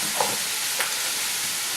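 Food frying crisp in a pan gives a steady close sizzle throughout, with a couple of brief stirring clatters over it.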